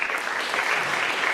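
An awards-night audience claps steadily and fairly loudly for a brief moment, a dense even patter of many hands with no voices standing out.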